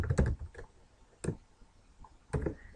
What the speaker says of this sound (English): we're going to go ahead and type in the word strong.